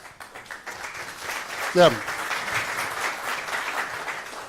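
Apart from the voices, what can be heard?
audience applause for a speaker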